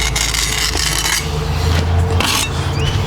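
A steel trowel scrapes and shapes wet mortar on a wall during repairs, a steady close rasping rub that swells and fades in strokes.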